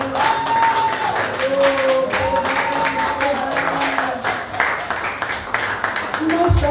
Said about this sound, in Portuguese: Salvas de palmas.